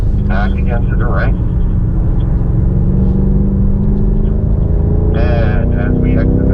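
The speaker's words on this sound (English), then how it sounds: "as we exit the corner, we're going to continue accelerating" Loud, continuous engine roar from a BMW M5 Competition accelerating out of a corner on the Indianapolis road course, its rising pitch steady throughout, with a driver talking over it at moments.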